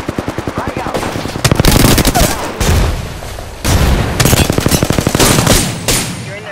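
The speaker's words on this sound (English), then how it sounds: "They spotted me. I'm taking shots." Rapid automatic gunfire in the video game Apex Legends rattles out in repeated loud bursts, with brief pauses between volleys during a fast firefight.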